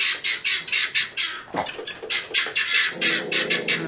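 Guinea fowl raise a loud, repeated alarm of harsh rhythmic squawks close by, with several birds calling in rapid overlapping bursts.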